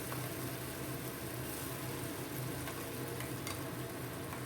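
Tomato, ginger, cashew and green chili paste sizzles steadily in a hot pan for a katla fish curry, a continuous close frying hiss with no voices.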